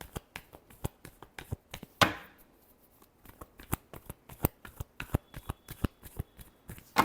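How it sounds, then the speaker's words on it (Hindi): Tarot cards being shuffled by hand, a quick series of crisp riffles and flicks, close and fairly quiet, with one louder bridge-like cascade early on and no voices. "Last shuffle."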